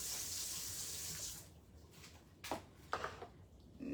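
Water runs steadily from a kitchen tap into a measuring cup, a close, continuous hiss that thins out and gives way to a few clinks and small handling sounds.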